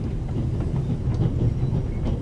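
A train rumbles steadily along the rails in a video game, with a dense low roar and faint rhythmic clacks running throughout, close and continuous.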